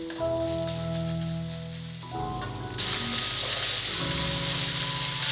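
Minced pork being stir-fried in a wok, a steady frying sizzle that jumps suddenly louder partway through and stays bright and hissing, with tonal background music running underneath.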